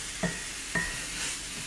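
Vegetables sauté in a pan with a soft, faint sizzle, punctuated by two quick stirring clicks of a utensil against the pan.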